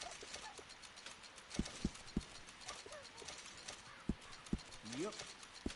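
Horse hooves clip-clop in the Red Dead Redemption 2 video game, a few sharp, irregular hoof strikes set against quiet ambient game sound, with a faint whinny-like sweep near the end.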